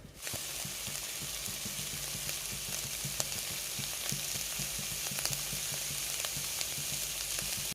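Vegetables for a Coimbatore-style gilma biryani fry in hot oil, a dense, even sizzle close up, broken by occasional light clicks of a stirring spoon, with no talk.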